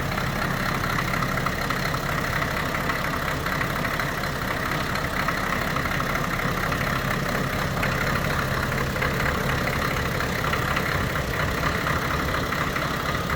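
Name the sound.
1984 Cadillac Seville diesel engine idling with hood open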